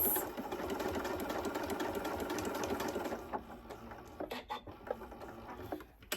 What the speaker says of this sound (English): Lower it back down and sew across.